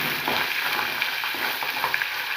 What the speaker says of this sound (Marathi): मी पनीर काय करते त्याला फ्राय करते ना